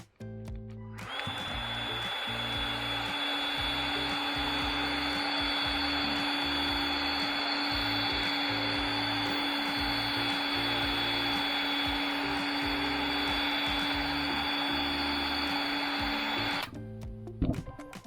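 A heat gun, either a cordless Milwaukee M18 BHG or a corded Metabo H1600, runs as a loud, steady whine and airflow roar that switches on about one second in, holds for around fifteen seconds, then cuts off with a click.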